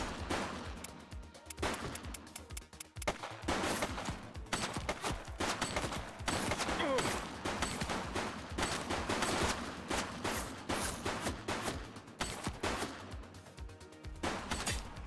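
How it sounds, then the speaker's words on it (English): Rapid gunfire in a video game, dense bursts of shots crackling almost continuously at moderate loudness, with heavy rattling volleys and brief gaps throughout. "Suspect down. He's shooting!"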